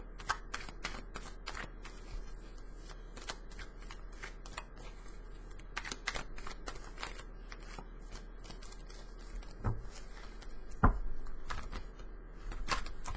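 Tarot cards being shuffled in quick riffling bursts, close and crisp, with a few sharper snaps toward the end; no one speaks.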